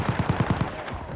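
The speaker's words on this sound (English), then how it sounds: "Somebody else shooting." Rapid burst of automatic gunfire in Call of Duty, about six evenly spaced shots in quick succession, fairly close and loud, then fading into background noise.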